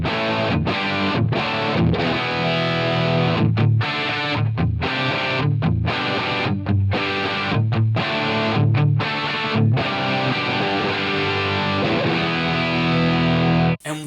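A heavily distorted Marshall-style electric guitar tone from an HX Stomp, captured with a Warrior 121 ribbon mic emulation, plays chugging chords with short rhythmic stops, thick and saturated, ending with an abrupt cutoff.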